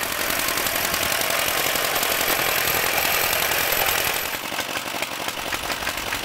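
A 1933 Lauson model UAS engine, an upgraded VA rated at about three horsepower, runs with a dense, steady mechanical clatter. The clatter eases slightly in level over the last couple of seconds.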